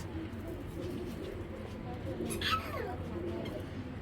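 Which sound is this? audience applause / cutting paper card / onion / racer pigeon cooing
racer pigeon cooing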